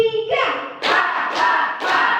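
At an elementary school, a group performs a counted clap pattern: a short voiced call, then three sharp, loud bursts of many hands clapping together, roughly half a second apart.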